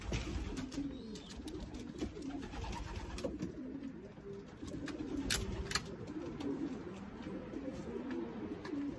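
Racing pigeons coo steadily in low, throaty pulses throughout, with a faint outdoor hiss and occasional soft rustles in the background.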